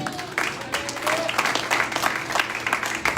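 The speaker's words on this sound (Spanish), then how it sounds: "Denle un aplauso al Señor." Church congregation applauding during a sermon, a dense burst of clapping from many people that holds steady for a few seconds, with a faint tonal sweep early on.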